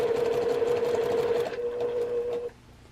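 A sewing machine stitches a quarter-inch seam on a quilt block, a close, steady motor hum and rapid needle rattle that slows after a second and a half and stops near the end.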